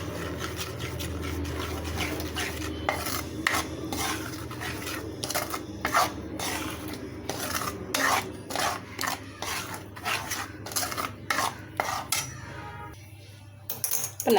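Ghee Mysore pak mixture stirred in a pan, a steady scraping and rubbing with repeated sharp clicks of the spoon against the metal, close and continuous with no talk.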